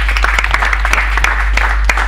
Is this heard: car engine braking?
no